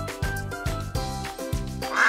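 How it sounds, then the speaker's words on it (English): A farm duck quacking, a few short nasal quacks in a rough rhythm, close and clear with no talking over them. "It's a duck."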